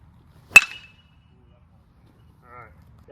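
A sharp ping from an Easton Encore hybrid two-piece BBCOR baseball bat striking a ball, a single loud contact with a bright ringing tail, followed by brief talking.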